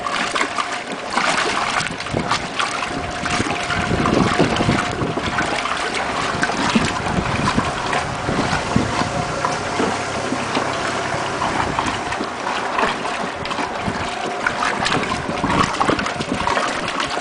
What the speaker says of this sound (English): We'll let that wash for a while.